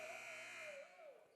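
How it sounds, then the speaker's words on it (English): A final buzzer sounds in a basketball gymnasium at the end of a men's game between Brevard and Ferrum, a steady, wavering electronic tone heard over crowd noise for about a second before it fades. "And the final buzzer here from the Boschmer Gymnasium."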